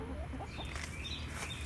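Five backyard chickens, one recovering from illness, cluck and murmur softly in a newly built chicken run, scattered short calls over a low background hum.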